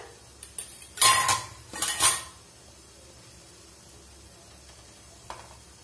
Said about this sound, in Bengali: আমি 10 মিনিট পরে খুলে দেখছি ঢাকনাটা, বাটিটা।